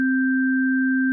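Phosphor 2 additive synth on iPad holding a single sustained note with the primary oscillator's sustain raised, a steady pure tone with a faint upper partial, unchanging throughout and alone.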